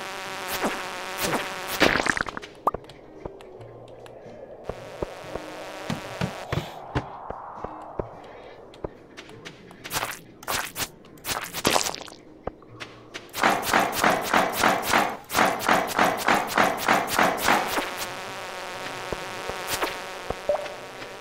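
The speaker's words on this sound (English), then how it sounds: "And them bees do need to step off" Insect-like buzzing from bees in the farming game Stardew Valley, coming in bursts with game effects and thumps, strongest in a dense stretch near the end.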